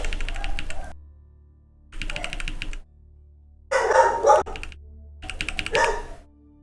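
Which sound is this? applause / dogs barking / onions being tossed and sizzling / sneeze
dogs barking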